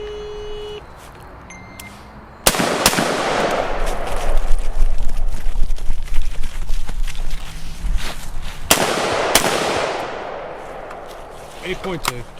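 Loud, sharp rifle shots from a SIG MCX AR conversion crack at an outdoor shooting range; a single report echoes into a long noisy rumble, and another pair of shots comes later amid faint background sound.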